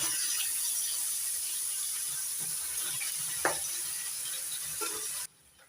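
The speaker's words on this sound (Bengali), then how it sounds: "বাকি মাছগুলো লাল করে ভেজে তুলে নেব" Pieces of katla fish fry in hot oil until browned red, giving a steady, close, hissing sizzle with one sharp clink midway before the sound cuts off abruptly near the end.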